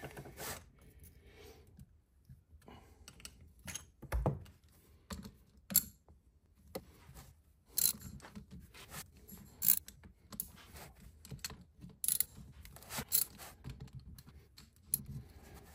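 Bolts are loosened one by one on a Laycock de Normanville D-type overdrive from a Triumph Spitfire. Scattered sharp metallic ticks and clicks of a ratchet and wrench come in quiet bursts, close and alone.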